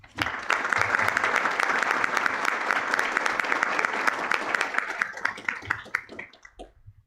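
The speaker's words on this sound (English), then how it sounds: "Let's give one more round of applause to our honorees this evening." An audience at a Park Hill School District retiree celebration applauds the honorees: a burst of dense clapping that holds steady for about five seconds, then breaks into scattered claps and dies away.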